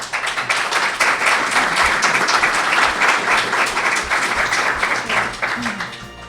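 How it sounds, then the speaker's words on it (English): Loud, sustained applause from the audience at a Westerville city council candidates forum, with many hands clapping in a thick, even wash that tapers off toward the end as a voice begins to speak. "Can we give everyone a round of applause?"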